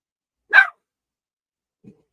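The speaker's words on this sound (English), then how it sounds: "All right, quiet, dog." A dog lets out one short, sharp bark, followed by a faint low huff and silence, with no talking.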